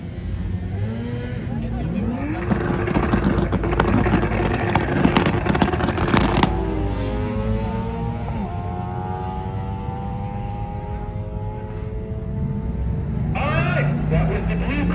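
Nissan drift car engine revving hard on a pull at a drift event, a loud rising roar that sweeps up and then fades away as another engine drones in the background, with crowd noise beneath.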